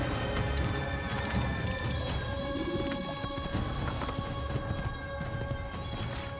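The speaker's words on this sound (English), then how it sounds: "We're going to take his horse." Horse hooves from the video game Assassin's Creed clatter in a steady, busy gallop at close range, mixed with a dense layer of game music and ambient noise, with no voices.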